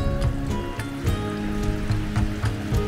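A small waterfall in Norway spills down a rock wall, giving a steady close splashing and pattering rush of falling water with irregular louder drips, and no voices.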